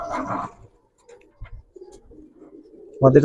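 Silver Giribaz pigeons coo in short, low, throaty bursts at the start and end, close by, with quiet gaps and faint movement noises between them.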